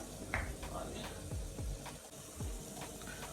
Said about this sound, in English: you can let it fry until your own liking